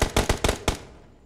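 A grenade blast in the battle royale game BGMI comes as a quick run of five sharp, loud bangs within under a second, each fading fast, followed by a brief dying tail.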